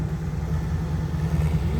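A tractor engine runs steadily at a low, droning idle close by, with no other sounds over it.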